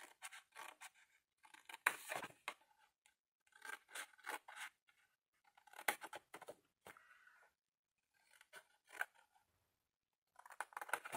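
Scissors cut paper in a straight line for an advent calendar chimney, giving crisp, close snips and rasping slices in repeated short bursts separated by brief silences.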